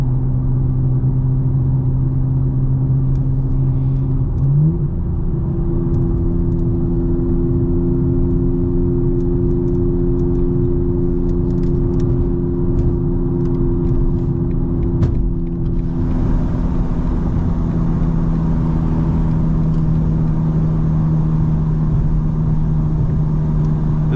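A 2024 G82 BMW M4 Competition xDrive with the S58 engine drives along at a steady pace. A deep, continuous engine drone and road rumble hold throughout, with a brief shift in pitch near the start and added road hiss later on.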